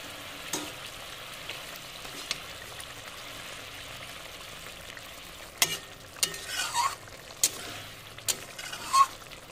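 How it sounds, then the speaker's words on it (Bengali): Fried tangra fish pieces go into a bubbling curry: a steady low sizzle and hiss, then several louder splashy sizzles and clatters in the second half, close by with no talking. "ঝোলটা ফুটে উঠেছে, ভেজে রাখা মাছগুলো দিয়ে দিলাম"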